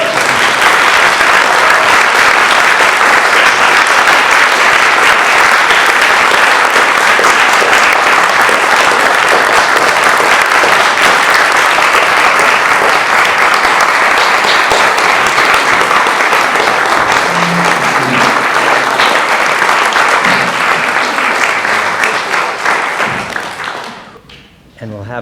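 Steady, dense audience applause for a guest at a talk event, loud and sustained for about twenty seconds before tapering off at the end.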